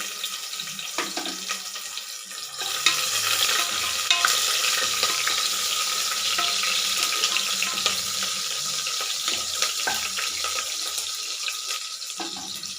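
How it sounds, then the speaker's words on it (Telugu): Onions fry in a pan with fennel seeds, kasuri methi and bay leaf while being stirred, giving a steady close sizzle with scraping stirs, with no talking. "ఆనియన్ ఫ్రై అయ్యాయండి."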